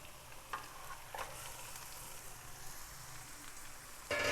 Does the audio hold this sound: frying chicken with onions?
yes